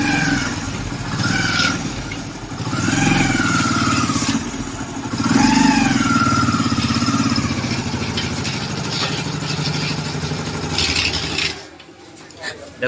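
Motorcycle engine idling while the clutch is released, giving a rough, grinding clatter over a steady mid-pitched drone that cuts off abruptly near the end.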